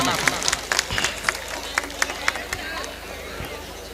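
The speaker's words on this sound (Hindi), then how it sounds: "एक बार थोड़ी सी तालियां दे दीजिए" Scattered clapping from an audience at a Hindi poetry gathering, a kavi sammelan in Hathras, with sharp individual claps over a few seconds that thin out toward the end, under a low murmur of crowd noise.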